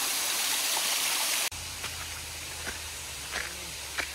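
Waterfall beside a hiking trail in the South Carolina mountains, a steady broadband rush of falling water that fills the whole clip, with a few brief clicks and knocks over a low rumble after the first moment.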